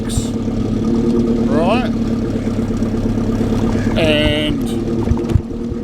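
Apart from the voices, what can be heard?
Toyota Hilux exhaust burbling while idling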